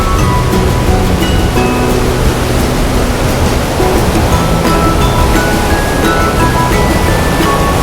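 Ocean waves crash in a storm, a loud continuous roar of surf and churning water with no break, and no voices present.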